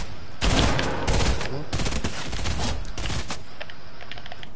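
SMG gunfire in Fortnite, rapid bursts of close, loud shots firing in several clusters with brief gaps between them before fading to quieter background.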